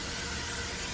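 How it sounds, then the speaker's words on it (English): Non-stick cooking spray hisses onto a waffle maker in one continuous, fairly soft burst lasting about a second. "spraying, making sure nothing ain't gonna stick"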